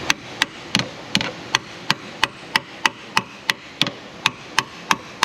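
Light hammer taps on a punch driving out a dowel pin on an Infiniti FX35 3.5 VVT engine, a steady run of about sixteen crisp metallic strikes evenly spaced, close by, with faint workshop background between them.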